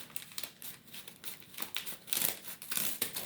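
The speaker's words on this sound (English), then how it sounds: "grab the scissors about halfway down. Just go all the way to the top." Crisp snipping and crinkling of scissors cutting through stacked paper bags, several quick cuts in a row growing louder toward the end, close and without speech.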